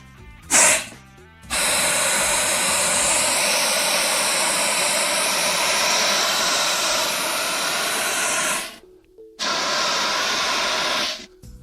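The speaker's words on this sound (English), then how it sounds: "Notice, nozzle is cold, discharging CO2." A 10-pound CO2 fire extinguisher discharging, a short puff followed by a long loud hissing blast of several seconds, a brief pause, then another sustained roaring hiss.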